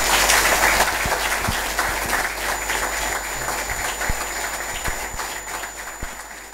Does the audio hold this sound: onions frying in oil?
no